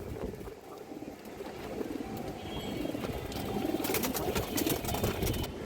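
Pigeons at a farm coo in a low continuous murmur, close and dense, with faint scratchy rustling and a brighter crackle building toward the end.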